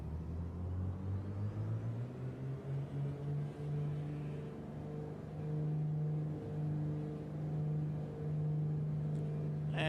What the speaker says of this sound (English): these engines should sound incredible with the turbos